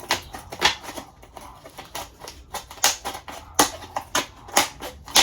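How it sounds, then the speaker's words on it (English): Scissors snipping around the base of a plastic plant pot, a close series of sharp crisp cuts in an irregular rhythm with short pauses between. "And now I'm just going to cut my way around the base of the pot."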